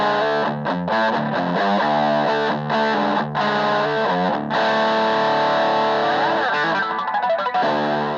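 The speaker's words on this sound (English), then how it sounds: "Could do that for a bit more like of a metal kind of sound." Distorted electric guitar plays a snaky metal-style riff with effects, loud and continuous, mixing choppy palm-muted notes with bends and sustained slides, no voice.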